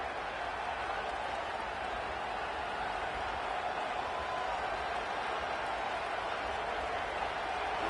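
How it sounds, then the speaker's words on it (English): A college football stadium crowd roars in a constant, dense wash of noise heard from a distance, steady and unbroken without individual voices standing out. "This place is roaring, and it's going to be so hard to operate under these conditions."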